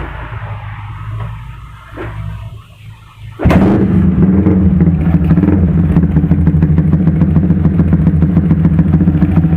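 A Yamaha Vixion motorcycle engine, bored up to 177cc with a changed carburetor, kicks to life with a sharp crack, then idles loudly with a steady, throbbing rumble that continues to the end.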